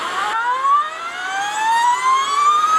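An Energica Eva electric motorcycle accelerating at full throttle on a road, its motor whine rising steadily in pitch, loud and close with a faint wind rush.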